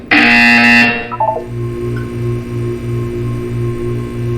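A loud, harsh electronic buzzer from the video game Portal 2 sounds for about a second, then gives way to a softer, steadily pulsing low electronic hum.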